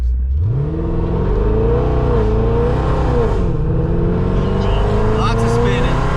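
A supercharged 5.7-litre Dodge Challenger accelerates hard with its wheels spinning. The engine note climbs, wavers and surges loudly and close for several seconds, with a voice talking under the roar.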